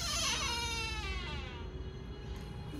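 A home's door swings open on squeaky hinges, giving a drawn-out, wavering high-pitched creak that slides in pitch. It sounds close and clear, with no talking over it.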